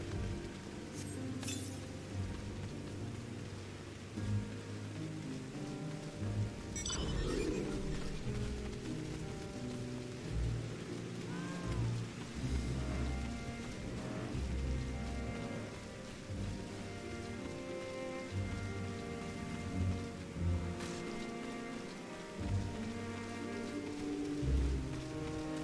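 Heavy rain in the Final Fantasy XIV Endwalker game, a steady faint wash of falling rain with scattered drops and soft rumbles, continuous and low in level, heard on its own with no one talking.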